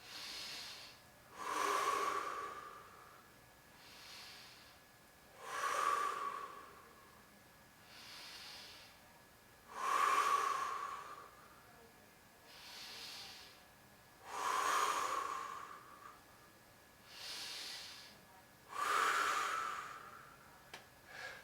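Slow, deep breathing during a floor stretching exercise, with about five or six loud, close inhale-exhale cycles coming at a steady rhythm roughly every four seconds and no talk.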